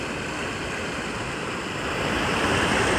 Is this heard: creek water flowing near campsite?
yes